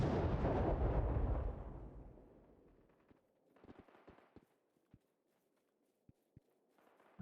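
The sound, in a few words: grenade explosion in the video game Battle Prime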